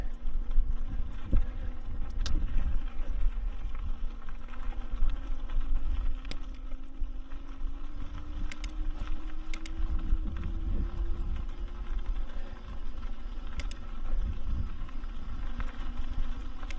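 Hovsco Ranger electric bike climbing a hill on power setting 3, a low, faint motor drone with a slowly rising whine under constant wind and road rumble.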